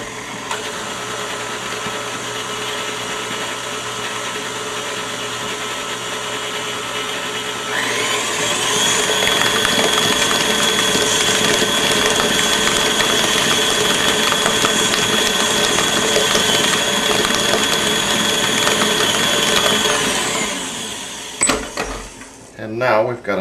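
An electric hand mixer blends chocolate cookie dough in a bowl, a steady loud motor whir that starts partway through, runs for about twelve seconds, then cuts off, with a quieter stretch beforehand.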